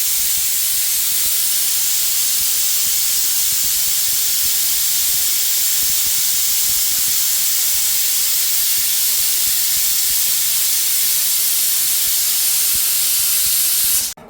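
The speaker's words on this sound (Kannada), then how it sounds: "ಕುಕ್ಕರ್ದ ಬಾಯಿ ಓಪನ್ ಅನ್ಪುನು 7 ವಿಸಿಲ್ ಕೊಡ್ತಾ" Steady, loud hiss of steam rushing from a pressure cooker opened after cooking mutton rib bone soup, a continuous unbroken spray that runs close and alone for the whole stretch before cutting off abruptly at the end.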